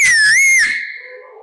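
A single loud, clear whistle of the kind used to call a friend, a sustained rising-and-falling tone lasting under a second, then trailing off into a quieter tail.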